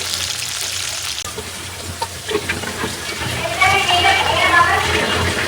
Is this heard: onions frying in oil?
yes